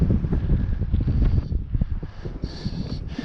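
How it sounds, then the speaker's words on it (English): Gusty wind buffets the microphone high on a mountain climb, heavy low rumbling bursts that ease and return across the clip, with no talk. "And it's still windy."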